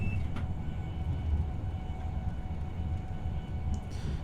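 A Class 170 Turbostar diesel unit in Train Simulator passes with a steady, fairly loud low rumble and rolling wheel noise, holding at an even level throughout with no talk.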